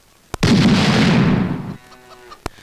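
A bomb or firecracker goes off: a sharp bang, then a loud roaring blast lasting over a second before cutting off, with faint tonal sounds after and a second sharp crack near the end.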